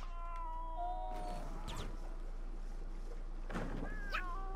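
A cat in the LittleBigPlanet 3 video game meows a few times in short rising cries over a steady low game hum, with tonal game sounds alongside.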